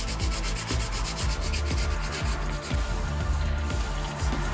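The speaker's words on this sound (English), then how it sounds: "I'll go over it by hand with a piece of sandpaper so I can kind of mold and shape the bumper back" Coarse 80-grit sandpaper rubbed by hand over filler on a damaged car bumper, a close, steady back-and-forth scratching with rhythmic strokes roughly twice a second, continuous and alone.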